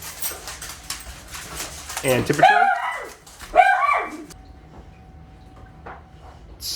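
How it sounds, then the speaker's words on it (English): Excited dogs in a home office give several loud yelping barks and whimpers over a few seconds. A person is talking just before the barking. "My doggos came running into the office and got very excited."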